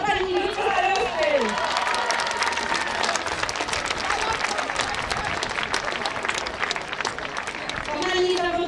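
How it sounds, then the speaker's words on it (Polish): A crowd at a Special Olympics athletics meeting in Lower Silesia bursts into loud, sustained applause with some cheering, dense clapping filling several seconds, while a voice speaks at the start and end. "wielkie brawa dla pani starosty!"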